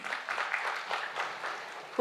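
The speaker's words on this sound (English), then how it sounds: "Can you have a huge round of applause for him, please?" Applause from a live audience for a participant named Viraj, a steady wash of clapping at moderate loudness, continuous for the whole stretch with no one speaking over it.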